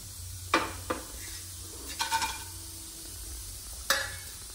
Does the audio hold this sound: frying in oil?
yes